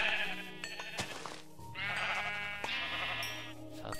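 Sheep in the Minecraft video game bleat in repeated wavering cries, loud and close, layered over background game music.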